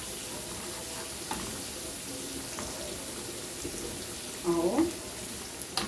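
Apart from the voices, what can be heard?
garlic frying in a pan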